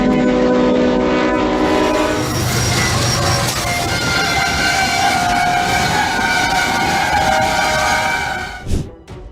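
A train sounds its horn while rolling along the rails toward a truck stalled on a crossing; a steady, loud, sustained horn blast rises over continuous rumbling and rail noise, ending with a short sharp impact-like burst near the end.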